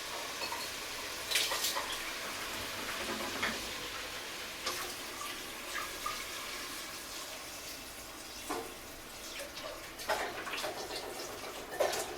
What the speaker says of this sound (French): on va mettre de l'eau dessus